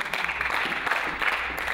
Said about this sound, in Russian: Аплодисменты представителю Китая Ху Цзиньцю.